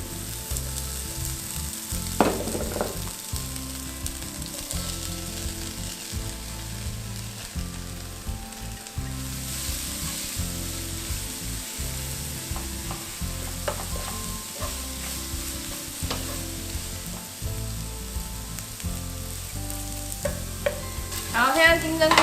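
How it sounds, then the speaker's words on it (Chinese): Ginger, enoki and shiitake mushrooms stir-fry in a pan with a steady, loud sizzle, broken by the rhythmic scrape of a spatula tossing the pieces around throughout. "我们就放入老姜、金针菇还有香菇，一样把它煸到金黄"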